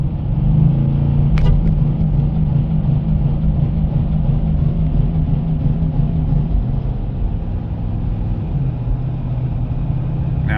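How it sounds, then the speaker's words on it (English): Steady loud engine drone from a car being driven under hard acceleration with a fault that cuts fuel near 3,500 rpm, a sustained low hum with no clear rise in pitch, close and alone. "now try to accelerate harder"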